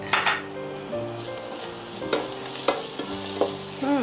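Masala with garam masala powder sizzling in a pan as it is stirred, a steady frying hiss broken by the scrape and clink of a spoon against the pan several times.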